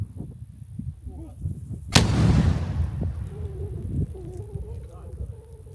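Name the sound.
RKG-3 anti-tank hand grenade explosion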